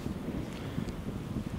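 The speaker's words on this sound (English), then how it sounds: "it's a bit windy, the smoke's not even staying in the box" Wind buffets a microphone outdoors during a honey harvest from an observation beehive, making a steady low rumble that goes on for the whole short stretch.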